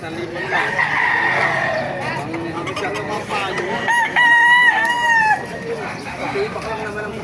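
Roosters crow repeatedly over a busy, noisy background of clucking chickens and people talking, a loud crowded chicken market scene in Baliuag, Bulacan.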